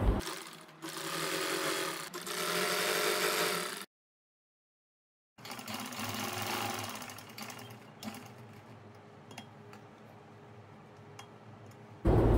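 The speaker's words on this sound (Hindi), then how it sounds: "अब इसकी मैं यहाँ से सिलाई लगाऊंगी।" A sewing machine stitches fabric in close, steady bursts, pausing in silence midway before running again and gradually easing into lighter, intermittent stitching with clicks.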